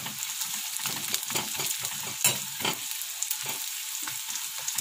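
Onions sizzling and frying in a pan as they turn golden, a steady crackling hiss with light stirring scrapes, close and fairly quiet, no voices.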